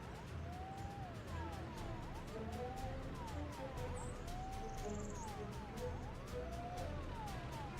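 Ambulance siren in the city-building game Workers & Resources: Soviet Republic, a repeating wailing sweep cycling steadily over a low traffic rumble, moderately loud and continuous, with no one talking.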